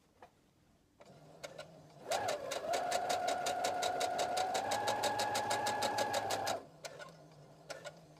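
A domestic sewing machine runs steadily for about four seconds, stitching fabric for an appliqué inlay, with a fast, even rhythmic whir. Quiet handling sounds come before and after.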